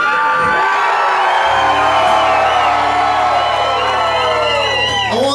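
Concert crowd at The Bluebird cheering, whooping and screaming loudly and continuously, a dense wall of overlapping voices with a low steady hum beneath and no speech on top.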